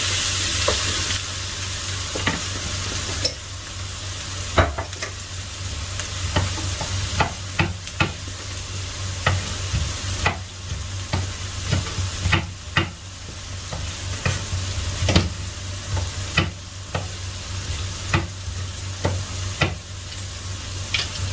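Peshawari black pepper mutton karahi with spices sizzles steadily in a pan, a loud continuous frying hiss broken by frequent sharp scrapes and clinks of stirring.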